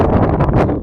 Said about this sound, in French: il fait un vent pas possible